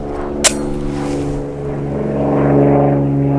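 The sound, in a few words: airplane flying overhead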